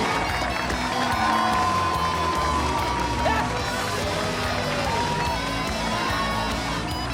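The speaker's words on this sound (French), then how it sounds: "Je vais vous demander d'applaudir celle que j'appelle mon arme secrète." A live audience cheers, whoops and applauds loudly and continuously at a staged concert, a dense crowd roar with shouts rising above it throughout.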